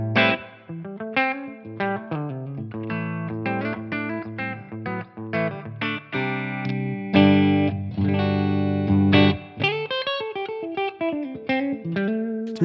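Electric guitar played through a 2x12 Rev Amplification cabinet loaded with Celestion V30 speakers, a vintage amp captured in ToneX v2, with steady chords and melodic lines ringing loud and continuously, no voices.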